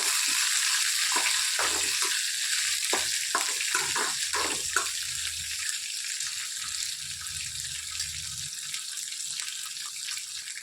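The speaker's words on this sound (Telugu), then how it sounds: "ఇట్లా బాగా ఫ్రై చేసుకోవాలి" Green chillies and peanuts fry in hot oil for a tomato and coriander chutney, making a steady bubbling sizzle with scattered crackles and pops early on.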